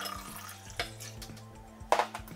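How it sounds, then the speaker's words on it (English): Cold water is poured into a gelatin mix: a brief, close splash and trickle of liquid with a few sharper splashy bursts near the end, with no talking. "then I will add my 2 cups of cold water."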